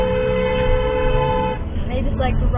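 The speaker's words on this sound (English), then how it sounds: "Who's honking?" A car horn honks in steady, sustained blasts on a road, loud and close throughout, with traffic noise underneath.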